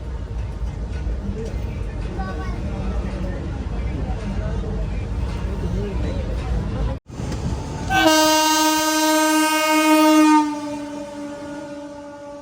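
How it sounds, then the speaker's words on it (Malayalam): The Kanyakumari–Pune Jayanti Janata Express rumbles steadily into Aluva railway station, then a loud, sustained horn blares for a couple of seconds before the rumble resumes. "ആലുവ റെയിൽവേ സ്റ്റേഷനിലേക്ക് ഇതാ നമ്മുടെ ട്രെയിൻ എത്തിക്കൊണ്ടിരിക്കുക"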